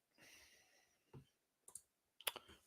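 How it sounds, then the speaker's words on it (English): A computer mouse clicks a few times at a desk, with a faint sigh-like breath at the start, then a single click, then short clustered clicks near the end, quiet and close. "I'm going to click a few times with my mouse"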